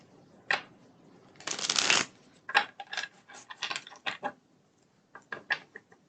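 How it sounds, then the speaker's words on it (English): Tarot cards being shuffled up close, starting with a few short riffles, then a long dense burst of rapid flicking, then a run of quick irregular shuffles and snaps with brief pauses between them. "we'll shuffle these ones for a bit here."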